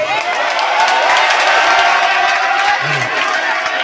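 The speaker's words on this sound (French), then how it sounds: "Applaudissez." An audience at an International Mathematics Day celebration at a lycée cheers and applauds loudly and continuously, with whoops and crowd noise over the clapping.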